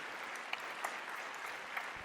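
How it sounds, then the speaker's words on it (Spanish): A church congregation applauds during a Spanish-language sermon, producing a steady wash of clapping at a fairly low level with no voices over it. "¿No le da un aplauso al Señor por eso, hermano? Yo se lo daría fuerte, hermanos, fuerte."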